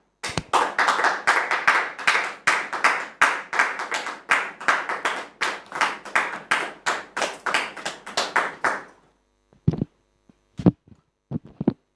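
Studio audience clapping in a strong, regular rhythm, loud evenly spaced claps for about nine seconds, then stopping abruptly with only a few isolated claps afterward.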